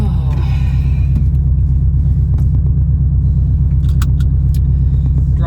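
Sports car engine droning steadily while driving, a loud constant low rumble with a faint ticking rhythm inside and a few light rattles and clinks, no voice over it.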